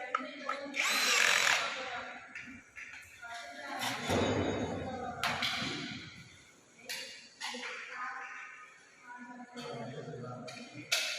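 Power drivers drive screws in bursts during assembly of electric bike frames on a production line, with controllers fitted into the frames. The whirring comes in short, uneven runs mixed with clatter and handling noise, while someone talks throughout.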